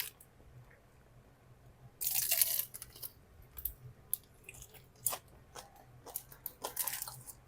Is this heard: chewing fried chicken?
yes